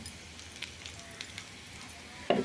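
Garlic sautéing in hot oil until golden for a tomato-onion curry, a soft continuous sizzle with light scattered crackles and a louder clatter of the spoon near the end, close and fairly quiet.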